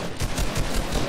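Automatic weapon fire in the video game Fortnite sounds as a fast, loud burst of rapid repeated shots with no pause between them.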